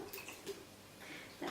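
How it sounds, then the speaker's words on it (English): Cream poured into a bowl while making profiteroles gives soft liquid splashes and gurgles, faint and close, in a couple of short bursts. "You just basically pour it all in into the bowl"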